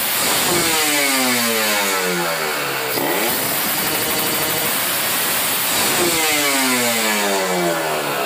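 Motorcycle engine fitted with a power jet carburetor, held at high RPM, loud and close, a continuous rising and falling whine with a brief dip partway through.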